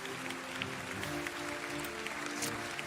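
Applause from an audience at a debate competition, a moderate wash of clapping with a steady hum beneath, somewhat distant and even throughout.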